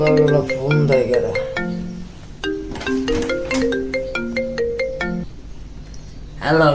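A phone ringtone plays for an incoming morning call: a loud, close electronic melody of repeated bright tones, pausing briefly before starting again.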